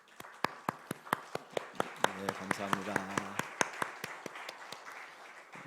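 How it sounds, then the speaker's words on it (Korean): A church congregation claps in a burst of applause during a Sunday service: sharp, irregular hand claps ring out close by while a voice briefly speaks over them, then the clapping thins away. "박수 한번 보낼까요?"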